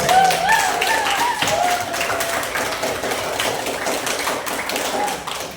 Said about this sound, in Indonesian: tepuk tangan buat beliau-beliau